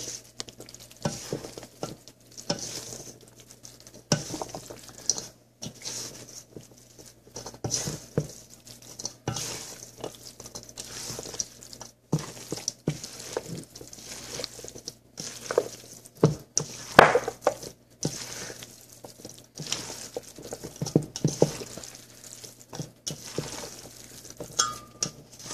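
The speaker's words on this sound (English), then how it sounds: "Now it's a matter of just mixing this up." A rotisserie chicken casserole with dried cilantro and Italian seasoning being stirred by hand, soft wet squishing and scraping strokes repeating irregularly at close range with no talking.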